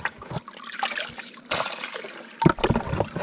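Water poured into a rock crevice while prospecting for gold, splashing and trickling in several uneven bursts, close and fairly quiet outdoors.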